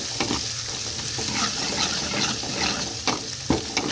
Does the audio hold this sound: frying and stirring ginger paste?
yes